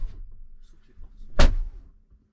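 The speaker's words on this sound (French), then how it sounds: "ce qui est vraiment impressionnant quand il ferme les portes, là c'est le bruit des portes." A Tesla Model Y car door shuts with one solid, close thud just after a quiet, muffled interior sound, then silence settles.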